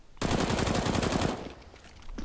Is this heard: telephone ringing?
no